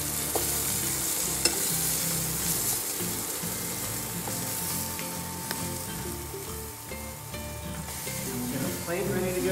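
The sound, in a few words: zucchini sizzling in a pan as they are flipped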